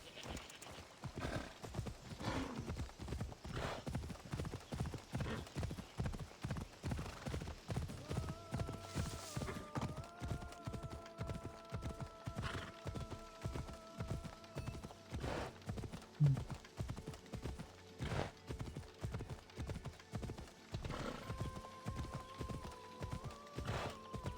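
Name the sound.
horse hooves clip-clopping in video game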